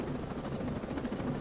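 A helicopter in the video game Ghost Recon Breakpoint gives a faint, steady rotor drone, low and continuous, with no voices.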